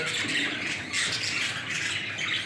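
Harsh, continuous squawking from pet Wasıflı Showjumbo bird chicks fills the clip, loud and close, with shrill bursts repeating over a couple of seconds and no voices.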